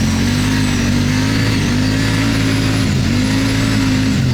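A close, loud engine rises and dips in revs on a Suzuki RM 800 Duo Trophy under way, with a steady drone and a brief dip near the end.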